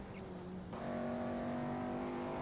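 A race car engine in Assetto Corsa drones steadily with a clear tonal whine, shifting gear and settling into a higher sustained pitch partway through, heard alone without talk.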